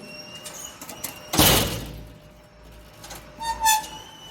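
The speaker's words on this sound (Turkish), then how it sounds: "Kapatmak için de daire sahipleri mecburen elle itiyorlar." An apartment building's entrance door with a broken hydraulic closer is pushed shut by hand, giving one loud, sudden thud and rattle, followed by fainter clunks and scraping with no talking.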